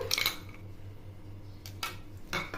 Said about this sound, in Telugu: మేము ఐస్ క్యూబ్స్ ఒక 4 వేసుకోవాలి ఫస్ట్.